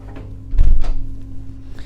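Small door in the dressing room of a 2022 Absolute 60 Fly yacht opened with a single close, solid thunk followed by a brief rattle, heard against a low steady hum.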